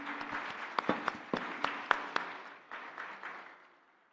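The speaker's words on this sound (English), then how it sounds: "a big round of applause for all of you all" An audience claps for a panel at a youth entrepreneurship leadership summit, with scattered sharp individual claps over a softer mass that thins out and fades away toward the end.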